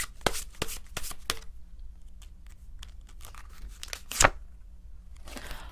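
Tarot cards being shuffled to draw an advice card give a series of quick, close, crisp riffling and slapping bursts separated by short pauses in a quiet room.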